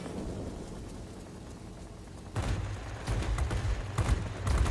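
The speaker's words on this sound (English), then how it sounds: "He runs into my 37mm cannon." 37mm cannon fire from an aircraft in the World of Warplanes game, starting after a quieter stretch of rumbling engine noise: loud, rapid bursts of shots that repeat in clusters toward the end, with no talking.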